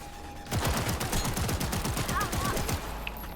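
Rapid automatic gunfire from a firefight in the video game Cyberpunk 2077, a dense rattling burst of fast repeated shots that starts abruptly and runs continuously and loud for about three seconds.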